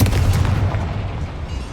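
A Confringo fire spell blasts in the Hogwarts Legacy game, a loud, close booming impact that rolls off into a decaying rumble.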